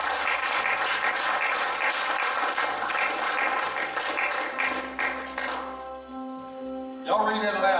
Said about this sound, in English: give Lord a hand clap on.